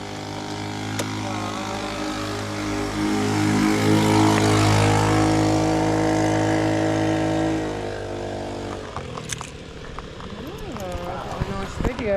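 A motorbike ride on Koh Tao, with a steady engine drone and road rumble building and then easing toward the end, as riders talk loudly over the noise.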